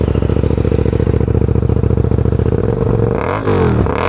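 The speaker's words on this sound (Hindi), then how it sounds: "इसका एग्जॉस्ट बहुत ही ज़्यादा लाउड है" A Hyosung GT250R's loud motorcycle exhaust pulses in a fast, rumbling idle, then revs up sharply near the end, close by with no voices.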